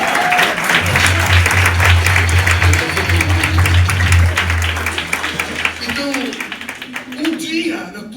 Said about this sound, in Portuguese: Dá uma aplauso ao Senhor.